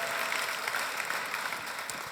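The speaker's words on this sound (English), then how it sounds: "So a round of applause for these as well." Audience applause at a startup pitch competition final: a steady, dense wash of clapping fills the whole stretch at even loudness, with no clear voices on top.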